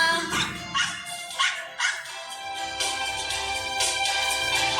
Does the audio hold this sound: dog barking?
yes